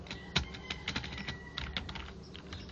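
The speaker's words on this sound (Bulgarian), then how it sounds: "Клавиатурата почти не се чува." Typing on a uRage gaming keyboard, a steady run of soft, fairly quiet key clicks with a few louder taps, heard alone.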